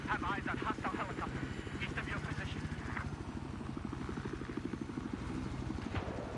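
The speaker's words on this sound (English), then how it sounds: "Have eyes on hostile helicopter." A hostile helicopter in Battlefield 4 chops steadily with fast, even rotor thumps throughout, fairly close, while someone talks over it at times.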